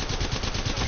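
Dense rapid gunfire from a competitive team shooter match, a continuous rattling burst filling the whole short moment at steady loudness with no talk over it.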